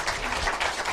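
Studio audience applause during a Korean TV talk show, a steady broadband patter of many hands clapping at once, fairly loud and even throughout the short burst.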